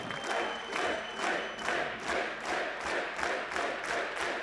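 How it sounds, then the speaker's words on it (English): An esports arena crowd at a DreamHack match roars and applauds, a continuous wash of cheering and clapping that swells in repeated waves. "the fans rise to their feet. Even Cast Guy clapping as hard as he can"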